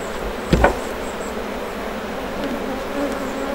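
Honey bees hum continuously around an open hive during a honey harvest in the Landes, a soft steady drone with a couple of brief knocks early on.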